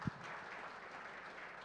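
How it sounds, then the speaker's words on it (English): An audience at a talent panel discussion applauds, a soft, even patter of clapping heard faintly and at a distance for under two seconds. "huge round of applause for the work that you've done"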